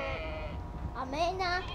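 Sheep in the video game Amanda the Adventurer bleat in a couple of wavering, nasal cries, following an earlier tonal game sound, with a voice briefly heard.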